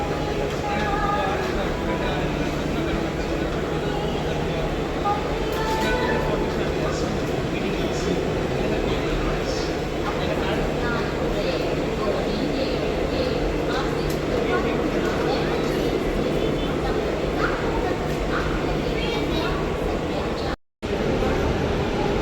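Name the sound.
WAP-7 hauled Jaipur Coimbatore AC Special train at Kacheguda station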